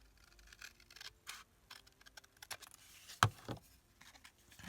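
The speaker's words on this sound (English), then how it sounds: "I'm going to cut it right up this line." A paper tag cut along a line with scissors at a craft table, faint snips and paper scrapes with one sharp louder snip near the end, quiet and close, no talking.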